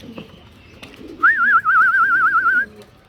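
Racing pigeons at home near their loft, with a loud warbling whistle-like call that lasts over a second amid quiet background sounds.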